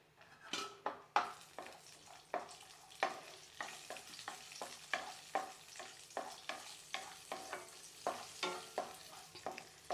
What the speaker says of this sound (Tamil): நம்ம முதல்ல முந்திரி பருப்பு போட்டு வறுத்துக்கலாம்